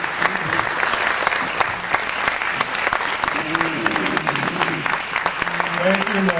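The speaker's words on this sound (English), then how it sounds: "let us give them a big round of applause" A big round of applause from a church or religious gathering audience, dense steady clapping throughout with crowd noise and some voices underneath.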